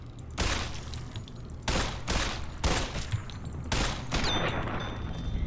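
Repeated bursts of automatic gunfire from a weapon in Fallout: New Vegas, four dense volleys each lasting around a second, separated by brief gaps, loud and close with no speech.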